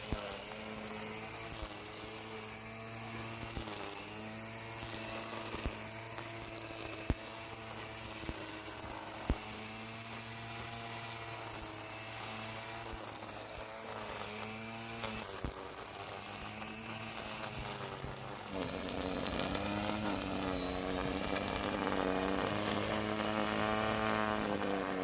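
A Black & Decker cordless edger powered by a 20V 8Ah CEENR battery whirs steadily and close for the whole stretch, its motor pitch shifting slightly as it works, with no talk over it.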